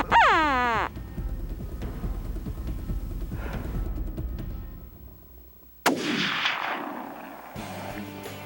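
A rifle shot from a Canadian coyote hunt cracks loudly and then rolls off in a long echoing boom across open ground. A second sharp report with its own rumbling tail comes a few seconds later.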